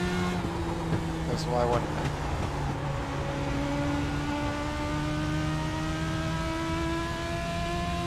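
Several Legends race cars in iRacing at Southern National Motorsports Park run bunched together, steady droning engine whine with shifting pitch throughout, a voice talking over it.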